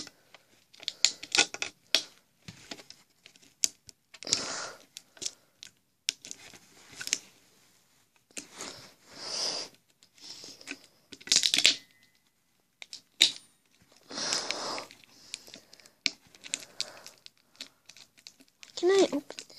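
A Pokemon card tin, a Xerneas ex tin, gets unboxed with bursts of crinkling, tapping and scraping of packaging at close range, interspersed with a voice talking.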